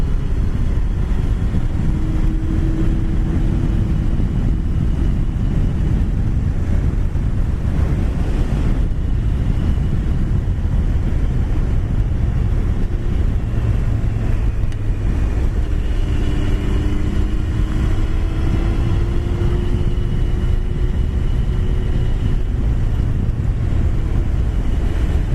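A Yamaha Fazer motorcycle rides along a road, engine droning steadily beneath loud, constant wind buffeting over the microphone, with faint rising and falling engine tones as it accelerates.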